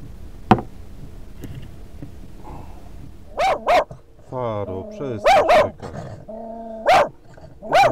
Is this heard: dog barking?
yes